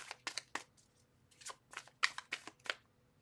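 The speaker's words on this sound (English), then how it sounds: "2 more shuffles." Tarot cards being shuffled by hand in short riffling bursts, several quick crisp flurries with brief pauses between them, close and quiet.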